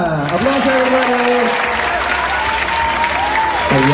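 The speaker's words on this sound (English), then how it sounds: "So, round of applause to our last slime expert." Crowd applause and cheering at a slime fair, loud and continuous, with a voice calling out over the clapping.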